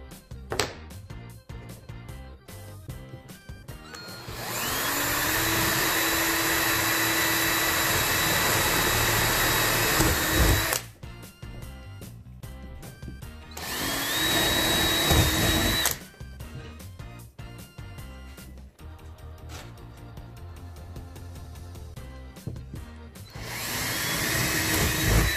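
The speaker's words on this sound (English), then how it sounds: "We'll go through here and drill" Power drill boring holes in the metal letters of a Lamborghini Huracan garage sign, steady whirring runs of several seconds each, separated by short pauses with clatter and handling noise.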